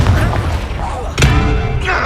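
In Hogwarts Legacy, the Confringo spell goes off as a booming blast inside loud, dense game noise, with a sharp burst around the middle of a short, busy stretch.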